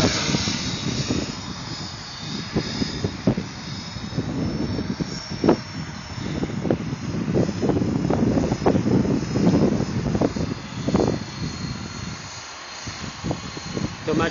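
A Trex 500 radio-controlled helicopter whines steadily through the air nearby, its rotor and motor drone continuous with wind buffeting the microphone and people talking over it.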